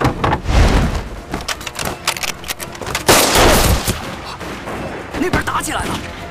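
Gunfire erupts in a fight, sharp loud bursts and scattered reports crack close by in irregular clusters, with voices shouting in between.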